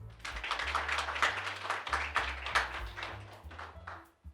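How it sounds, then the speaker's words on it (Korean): Applause from a company townhall meeting audience, a dense run of many hands clapping at close range, steady for several seconds before thinning out and tapering off at the end. "박수 부탁드립니다."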